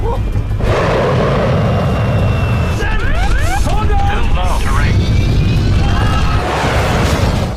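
Nazi fighter planes in a film dogfight roar loudly and continuously, with engine drone, dives, bursts and booms layered over a dense battle mix and voices.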